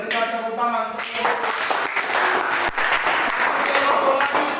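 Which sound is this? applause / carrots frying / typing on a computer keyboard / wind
applause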